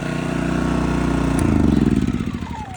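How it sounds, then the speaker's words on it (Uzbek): A petrol generator runs close by with a loud, steady chugging drone, its engine pitch rising briefly midway and then settling into an uneven, pulsing rumble. "Generator ishladi."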